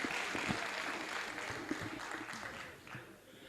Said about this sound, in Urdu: ایک بار زوردار تالیوں سے ابھینندن۔